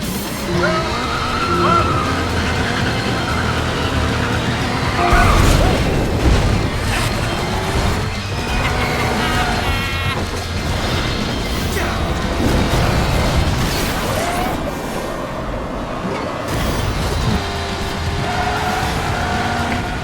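Race cars at the start of a race in the video game ModNation Racers: engines roar and tires skid and squeal continuously and loudly, layered with busy game sound and a voice.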